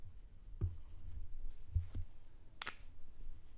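Pen or marker writing a number on a surface in a snakes-and-ladders demonstration, heard as a few short scratchy strokes with quiet gaps, close and fairly soft, with no talking.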